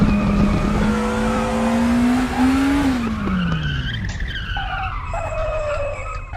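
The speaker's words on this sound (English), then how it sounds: "Braking much later into Surtees." Tyres squeal as a DTM 92 race car brakes hard into Surtees in the RaceRoom racing game, the engine note dropping under the screech before rising again as it accelerates out, loud and close.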